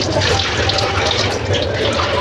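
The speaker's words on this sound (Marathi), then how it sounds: "रेशनिंगच्या तांदळाला खूप अशी घाण असते त्यामुळे ह्याला खूप छान असं चोळून चोळून धुवावं लागतं" Ration rice being rubbed and washed in water, a continuous close splashing and running-water rush without pause.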